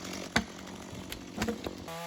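A chainsaw cuts through a freshly fallen tree, its steady engine drone running loud and close for about two seconds with a few sharp bursts as the chain bites into the wood, and no voices.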